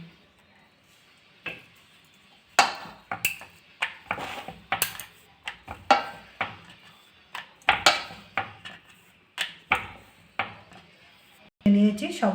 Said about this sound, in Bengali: নিয়ে এবার বেলে নেব।